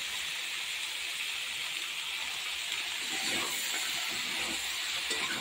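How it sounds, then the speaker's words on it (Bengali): Dried red chillies and bay leaves tempering in hot oil for a Bengali dish, giving a steady, bright hissing sizzle throughout with faint crackles, no talking. "দিয়েছি শুকনো লঙ্কা ফোড়ন, দিয়েছি তেজপাতা ফোড়ন।"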